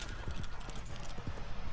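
Horse hooves clip-clop in Red Dead Redemption 2, a quick run of firm rhythmic hoofbeats close by, fairly quiet and steady across the short stretch.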